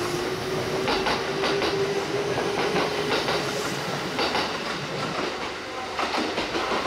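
A Kintetsu train moves through Tsuruhashi Station, with steady rolling rumble, rhythmic clickety-clack of wheels over rail joints, and a faint high wheel squeal, heard fairly close and alone.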